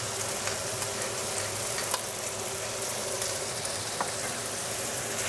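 Pork sizzles and crackles steadily in a hot pan while being stir-fried for home-style yakisoba, a continuous close frying hiss with occasional sharper pops and no talking.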